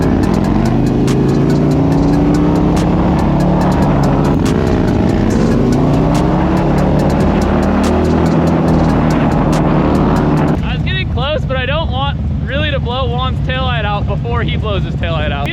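A Harley Dyna motorcycle that has just been fitted with a cam roars loudly and close under heavy wind noise while pulling a wheelie. Then its engine note drops into repeated rising and falling revs as people talk over it.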